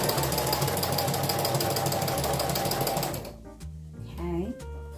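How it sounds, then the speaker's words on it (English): A sewing machine runs in a fast, rhythmic stitching chatter for about three seconds, sewing a fabric headband, then stops, leaving a few soft clicks and handling sounds. "move those pins before it gets underneath your sewing machine"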